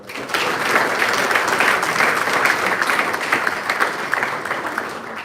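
Steady applause from a crowd at a college baseball banquet, a dense wash of clapping held at even loudness for several seconds with no talk over it.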